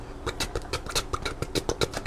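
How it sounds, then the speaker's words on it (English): A hit and miss engine runs with an uneven, chuffing beat, a quick string of firing pulses and pauses that sounds close and moderately loud. "it's called a hit and miss engine"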